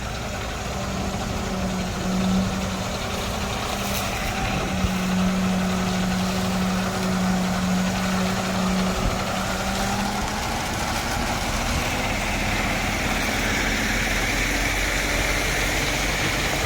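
A semi fuel-delivery truck's engine idles steadily nearby, a continuous low rumble with a droning hum and no talk over it.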